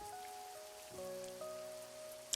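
Quiet, steady rain patters on surfaces in a truck driving video game, a soft continuous hiss with a few faint tones running beneath it.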